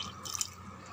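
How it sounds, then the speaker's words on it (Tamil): Half a tumbler of hot water poured into a cooking pot of simmering rice vathal batter, a short close splash and drip lasting about a second with no voices. "1/2 டம்ளருக்கு தண்ணி விட்டுடலாம்."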